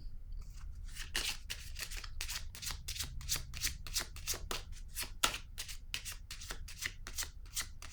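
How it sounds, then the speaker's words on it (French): A deck of tarot-style cards is handled and shuffled, giving a steady run of quick, crisp riffling flicks close by, with no one speaking. "Je vais piger une autre carte par curiosité ici."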